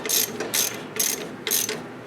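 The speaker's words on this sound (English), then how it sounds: "I'm just going to bolt it back up." A ratchet wrench tightens a bolt on the brake of a Murray 40-inch riding mower. Four quick, close, crisp bursts of rapid clicking come at an even rhythm with short gaps between them.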